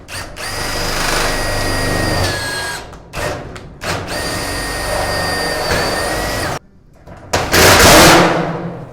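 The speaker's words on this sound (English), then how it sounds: "drill your own hole" A power drill bores holes into a steel shed frame during assembly, its high whine running in long sustained bursts with brief stops and a final rising spin-up, loud and close.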